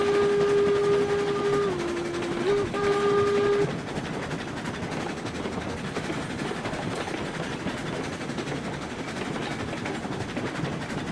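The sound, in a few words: locomotive train running in video game RailRoads Online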